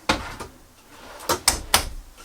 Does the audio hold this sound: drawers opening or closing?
yes